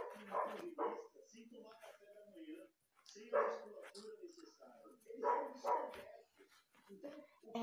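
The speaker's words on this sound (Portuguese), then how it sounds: "Desculpa o barulho do cachorro" A dog barks and whimpers in short bursts close by, mixed in with talking throughout.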